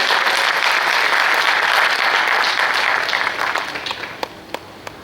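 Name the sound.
audience applause for the performers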